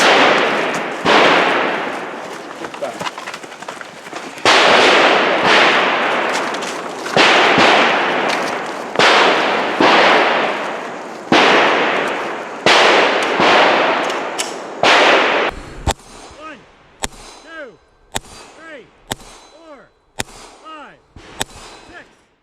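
Rifle shots at a shooting range during a timed gun club match, a string of loud, sharp cracks at irregular intervals, first spaced with ringing tails, then quicker, crisper reports near the end.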